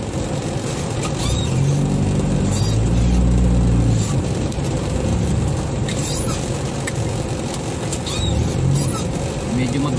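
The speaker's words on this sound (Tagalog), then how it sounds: "Traffic tayo, boss, dito sa Balintawak, EDSA." Traffic jam on EDSA at Balintawak in Manila, heard from inside a truck carrying a heavy load of pebble sacks: a steady close engine drone with low rumbling swells, small clicks and rattles, and some talk.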